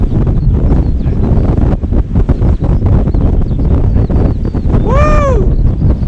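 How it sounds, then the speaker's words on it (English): Strong wind buffets the microphone on an exposed Isle of Skye coastline, a loud continuous roar with gusty surges throughout, plus a brief whistling tone near the end. "it's very windy on this side"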